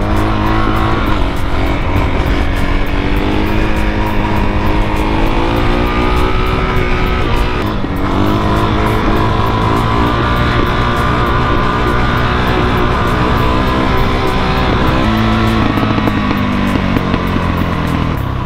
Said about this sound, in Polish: teraz ta Suzuki chodzi tak jakby jakieś tuna miała zrobionego